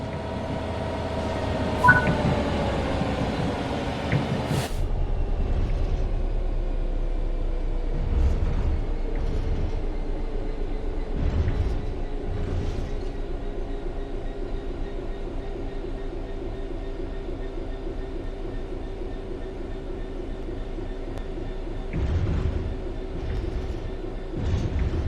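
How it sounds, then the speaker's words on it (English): A train in the video game Train Sim World 3 rumbles steadily with a low drone and faint rhythmic clicks, gradually easing as it coasts on level ground after a brief higher whine early on. "The train will then coast on level ground, and the train will only slow down very gradually"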